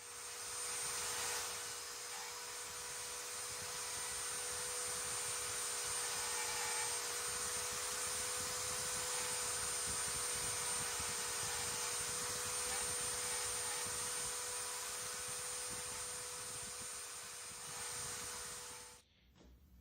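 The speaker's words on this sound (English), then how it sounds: "I've routed them all with a Dremel, cleaned them all up with a chisel" Dremel rotary tool routing inlay cavities into a guitar, a continuous high whine held steady and close for nearly the whole stretch, cutting off abruptly at the end.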